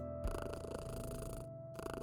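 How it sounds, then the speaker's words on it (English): Cat purring while being petted in the video game Kathy Rain 2, a steady low rumble running through the clip over a constant tonal game background hum, with short gaps in the upper noise. "We can just keep petting the kitty."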